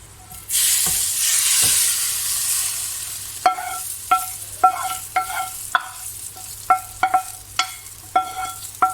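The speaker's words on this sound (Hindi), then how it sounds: "अब जो तड़का हमने रेडी किया है वो हम इस दाल में ऐड कर लेंगे।" A loud burst of sizzling erupts as hot oil tempering is poured into cooked chana dal and slowly dies down, followed by a series of rhythmic metallic clinks of stirring.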